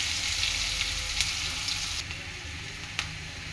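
Chopped onions sizzle steadily in an iron wok, a continuous close frying hiss with a few sharp crackles and pops.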